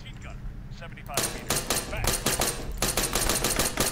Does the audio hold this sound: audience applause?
no